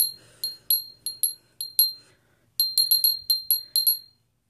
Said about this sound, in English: So I ring it to purify everything.